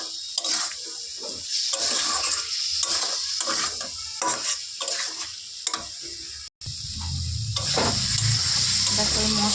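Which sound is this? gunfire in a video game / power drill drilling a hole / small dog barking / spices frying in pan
spices frying in pan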